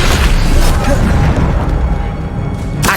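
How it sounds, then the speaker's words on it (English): Incendio fire spell cast in Hogwarts Legacy, a loud, dense whooshing roar of flame with a deep booming low end, sustained for a few seconds and tailing off at the end. "Incendio!"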